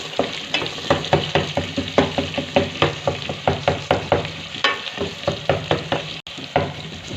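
Tomatoes dropped into mixed vegetables of potato, peas and carrot sizzling in a pan over medium flame, loud close frying with a steady rhythm of spoon stirring strokes throughout, no talking.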